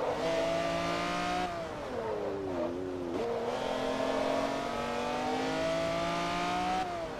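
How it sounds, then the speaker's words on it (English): A race car engine in the Forza Motorsport 3 video game holds a loud, steady high-revving drone, its pitch dipping briefly and recovering before climbing again, with no voices. "This is one of the best sounding engines in this game."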